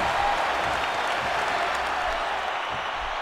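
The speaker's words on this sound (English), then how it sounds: "A very raucous crowd on hand here at the Joe Louis Arena." A wrestling arena crowd cheers and applauds in the video game WWE 2K15, set in the Joe Louis Arena, a dense, steady, loud roar of clapping and shouting throughout with faint commentary underneath.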